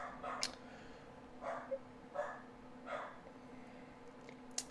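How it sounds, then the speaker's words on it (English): A house dog barks at a UPS delivery with a handful of scattered, muffled barks and yips, heard at moderate distance over a constant low hum. "He gets real upset when the UPS man shows up."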